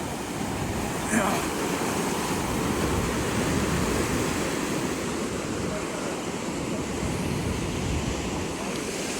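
Surging sea waves on the Konkan coast form a steady, continuous roar of surf, mixed with gusty wind buffeting the microphone throughout.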